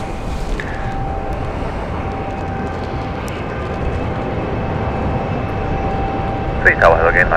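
A Berlin-bound airliner taxis at London City Airport, a steady engine hum with a thin whine held across the clip, and a brief voice near the end.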